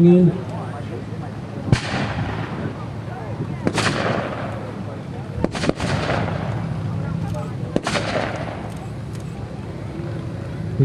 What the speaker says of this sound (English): We got an 81mm mortar that's still active over there in the tree line.